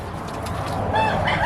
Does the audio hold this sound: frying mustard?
no